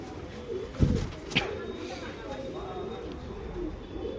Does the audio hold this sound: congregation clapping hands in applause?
no